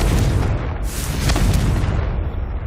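Confringo spell blast in Hogwarts Legacy, a loud, deep rumbling explosion with a booming low roar that swells and then trails off, no talking over it.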